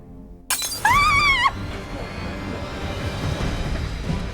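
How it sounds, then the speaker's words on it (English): A window pane shatters in a house annex with a sudden loud crash, ringing glassy tones trailing off over a second, then a lingering low rumble and debris noise. "Out of a sudden, a window in the annex broke. The glass shattered, as if something had been thrown at it."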